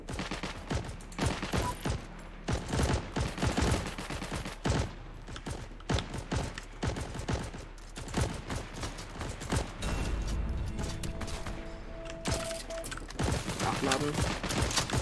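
Gunfire from the World War II shooter game Heroes & Generals crackles in scattered single shots and rapid bursts, fairly quiet and layered, continuing almost nonstop across the stretch.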